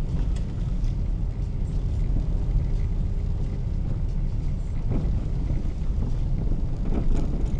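A driving-school car rolls over a rough road surface in Khabarovsk, giving a steady low rumble and rattle with some wind noise. The sound is dense, continuous and close from inside the car.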